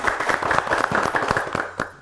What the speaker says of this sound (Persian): و تشویق کنین پلوشا جان را.